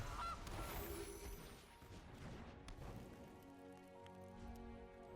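Honking goose call from the card game MTG Arena, a short game effect heard over a steady patter like rain and a soft musical hum.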